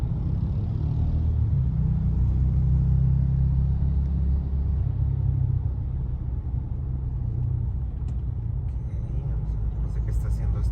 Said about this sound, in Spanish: no sé qué está haciendo este bus aquí